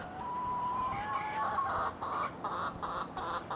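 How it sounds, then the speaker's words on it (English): A young rooster on a farm attempts a crow, a moderately loud, strained call that breaks into a series of short choppy pulses, heard at a middle distance over steady outdoor background noise. "Rooster's crowing semi-decent."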